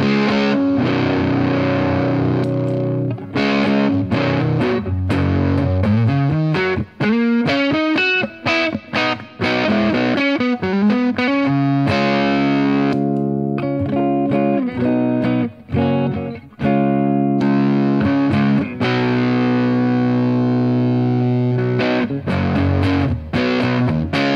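A distorted electric guitar plays chords and melodic runs through a Zander Circuitry Terra Firma pedal, loud and continuous with thick, saturated sustain.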